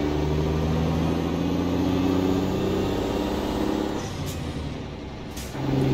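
A Mack B62 truck in American Truck Simulator double-clutching through a gear shift: a loud, steady diesel drone, a brief dip in revs, then a short rise as the gear engages.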